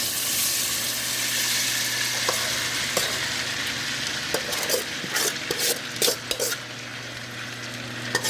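Pork sisig, about two kilos, frying and being stirred in hot oil: a steady loud sizzle throughout, broken by scattered clinks and scrapes of a utensil against the pan.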